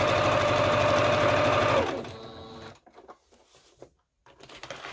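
A sewing machine stitches fabric with a loud, fast, steady mechanical whir for about two seconds, then stops, leaving quieter handling noises and small clicks.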